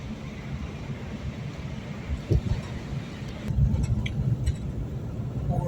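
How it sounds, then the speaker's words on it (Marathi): A car cruises along an empty Konkan road at night, heard from inside as a continuous low rumble of engine and tyres with some wind buffeting and occasional thumps. "सुमसाम रस्त्यावर गाडी चालवली आहे कोकणातल्या रस्त्यांवर किंवा कुठल्याही हायवेवर"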